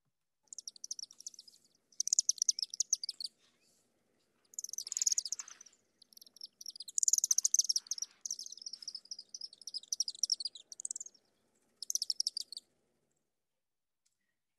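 Recorded barn swallow calls come in bursts of rapid high twittering chirps, separated by silent gaps, clean and isolated with no voices.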